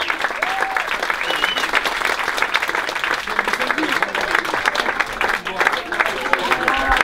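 Loud, dense applause from a concert audience cheering a singer at a tribute show, sustained throughout, with a voice speaking over it and occasional cries from the crowd.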